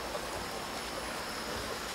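Water sprays steadily from a garden watering hose, a continuous broadband hiss and rush with no breaks, close and fairly loud, with no talking.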